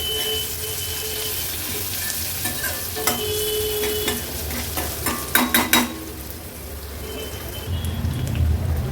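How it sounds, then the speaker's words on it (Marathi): Finely chopped medium onion sautés in oil over a medium gas flame, a steady close sizzle broken by clusters of sharp spatula clicks and scrapes against the pan, with no one speaking. "कांदा तेलावर छान परतून घ्यायचा आहे।"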